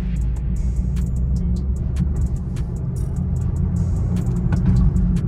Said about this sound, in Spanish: vamos a hacer la pruebita del arrancón. Entonces, vamos a acelerar en 3, 2,